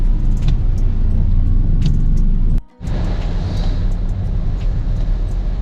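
Steady road traffic in rainy weather gives a loud, dense rumble of passing vehicles. The noise cuts out briefly midway, then the hum resumes, with no talk over it.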